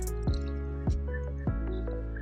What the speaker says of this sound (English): let me pour some petrol into the jar